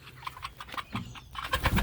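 Several chickens cluck in short, irregular bursts close by, growing busier toward the end.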